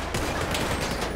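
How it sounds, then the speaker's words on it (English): Sustained machine gun fire in the LSPDFR police mod for GTA V during an armored car robbery, a dense, continuous burst of rapid shots close by filling the whole moment without a break. "My god, that's a machine gun shooting at me."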